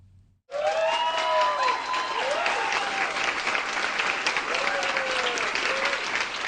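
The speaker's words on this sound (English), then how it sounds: "one of the Fargo, North Dakota officers hurt in a deadly shooting received applause while leaving the" Applause and cheering from medical staff, military personnel and colleagues as a Fargo, North Dakota police officer hurt in a shooting walks out of the hospital, loud and sustained with whoops and voices mixed in.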